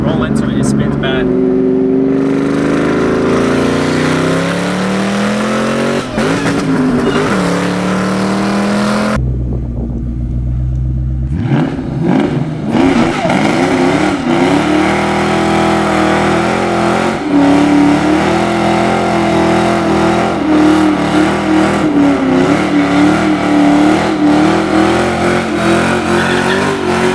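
A Cobra car's engine roars and revs hard at close range, rising and falling through gears with a short break, while people talk over the loud engine noise.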